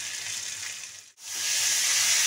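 Papaya pieces dropped into a hot pan with sauce, giving a loud, steady hiss and sizzle of frying that briefly cuts out, then swells back stronger and brighter.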